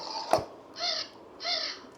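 A crow call played from a children's sound book gives two clear, harsh caws at an even spacing, loud and close, following a brief click.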